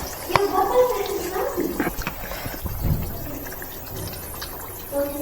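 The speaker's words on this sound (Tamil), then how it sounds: "பொரிச்சு வச்சுருக்க சிக்கனை போட்டுடலாம்." Fried chicken pieces go into boiling chicken sambal masala thinned with half a tumbler of water, giving soft splashing and bubbling close by, with a voice talking over it.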